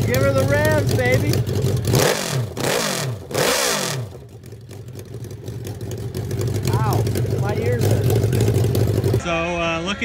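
A Jigster 750 motorcycle at a hillclimb revs hard in a few sharp rising and falling bursts, loud and close, with people talking over the engine noise throughout.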